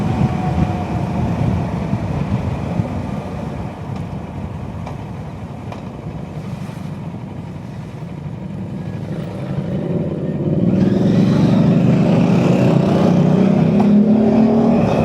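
A motorcycle rolls along a road with the engine braking, a steady low drone under wind noise that swells louder and rises in pitch toward the end as the engine picks up.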